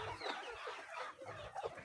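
Chickens cluck faintly and steadily in a poultry pen during debeaking with ordinary debeaking scissors, soft overlapping calls with a few sharper squawks near the end.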